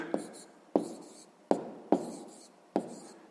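Numbers are written by hand in five short scratchy strokes, each with a sharp onset that fades quickly, spaced roughly half a second apart, close and soft.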